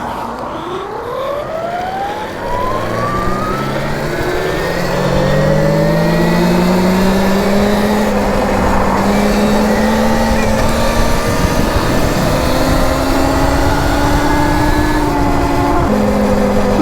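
A Velimotor VMX12 80-volt electric dirt bike accelerates along a busy city street, its motor whine sweeping steadily upward in pitch under wind and traffic noise.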